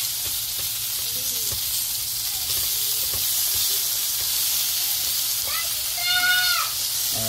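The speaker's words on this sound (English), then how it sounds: "We got the tomahawk cooking in the corner." A tomahawk ribeye steak sizzles in the corner of a griddle with a steady, bright hiss, and a few faint clinks and chirps sound over it.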